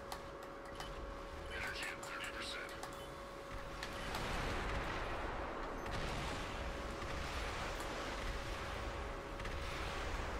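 Large missile impacts from Armored Core Verdict Day land in a dense, sustained barrage of booming blasts and crackling debris, with a steady tonal hum running underneath.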